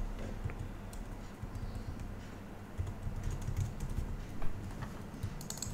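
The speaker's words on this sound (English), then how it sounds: "we'll type a text" Text is typed on a computer keyboard while building an Apple-style UI animation in After Effects, a steady patter of quiet close keystrokes over a low background hum, with no talking.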